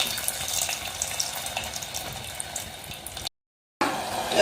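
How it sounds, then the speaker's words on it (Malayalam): Strained tamarind water pours steadily into a pan in a continuous splashing stream, close by, then cuts out briefly before resuming. "ഇതിലേക്ക് നമുക്ക് വാളംപുളി വെള്ളം ചേർത്ത് കൊടുക്കാം"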